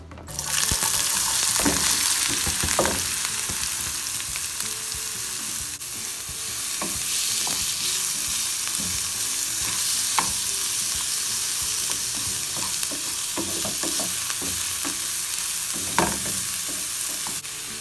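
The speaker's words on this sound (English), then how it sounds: "I've given them a stir and I'm just allowing them to simmer and soften a little bit" Vegetables frying in olive oil in a pan, a loud continuous hiss and crackle held steady and close, with occasional stirring scrapes and small clicks scattered throughout, no voices.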